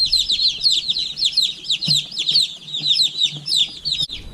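Freedom Ranger chicks crowded in a brooder, a dense continuous chorus of high peeping cheeps, close and loud, with occasional low knocks and bumps beneath.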